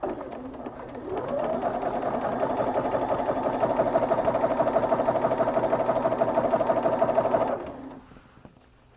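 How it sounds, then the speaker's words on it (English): A sewing machine chain-piecing quilt pieces runs in a steady, fast mechanical whir and rattle for several seconds, close and clear, then stops. "Place it under my presser foot and"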